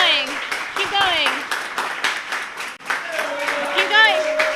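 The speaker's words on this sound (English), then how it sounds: "We need everybody to clap as loud as you can." A studio audience claps loudly and steadily with cheering and screaming, while a voice talks over the applause.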